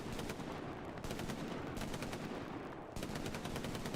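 Sustained machine gun fire from a World War II emplacement in the shooter game Hell Let Loose, loud, dense rapid bursts running nearly continuously with brief breaks in between.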